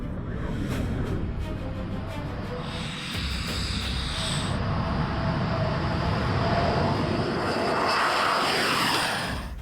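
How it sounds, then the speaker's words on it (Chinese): Fighter jets roar overhead in a loud, continuous, steady engine rush that swells slightly toward the end, with no talk over it. "从该编队起飞的战斗机群持续向我竞飞"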